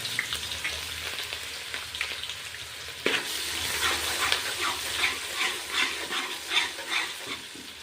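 Ginger garlic paste frying with bay leaf and whole spices for veg pulao, a quiet sizzle that jumps louder as the paste hits the oil, followed by steady stirring scrapes, close by without talk.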